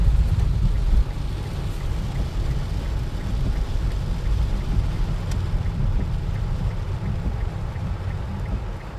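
Typhoon wind and rain batter the outdoors in a constant heavy roar with deep rumbling gusts, loud and unbroken throughout, with no voices.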